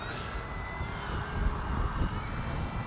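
An FMS PA-18 Super Cub RC plane (1700 mm) flies at the field, its electric motor giving a steady, fairly faint whine throughout with a high tonal hum and no talk.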